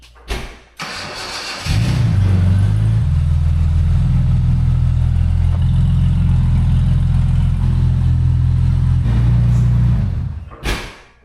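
A Jaguar car's engine starts and settles into a steady, loud idle close by, running for several seconds before shutting off, with a door thud at each end.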